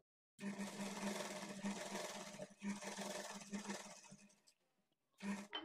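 A sewing machine lays a double stitch along a blouse sleeve at the side joint, running near in two long bursts with a brief pause, then a short final burst.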